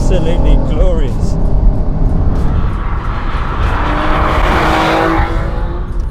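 A Honda NSX NA2 with a 3.2-litre V6 drives hard, the engine revving loudly and close through gear changes with a rising, raspy note, while a voice talks over the car throughout.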